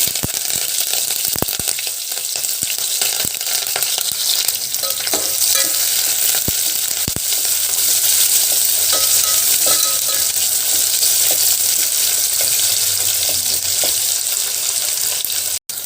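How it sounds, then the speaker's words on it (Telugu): Mustard seeds, cumin, fenugreek and lentils frying in hot oil for an Andhra-style taro root curry: a steady close sizzle with crackling pops throughout, no talking. "చూడండి ఆయిల్ కాగింది ముద్దపప్పు ఆవాలు జీలకర్ర మెంతులు చూడండి అవి వేగిస్తాను"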